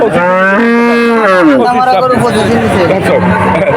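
Cattle at a rural cattle market moo loudly and up close in one long, drawn-out call, with a busy crowd chattering underneath.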